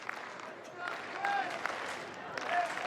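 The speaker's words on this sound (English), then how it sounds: "Longhorn crowd trying to get into it." Texas Longhorns home crowd at a college baseball game against Boise State applauds and calls out from a distance, scattered clapping and whoops under a commentator's voice.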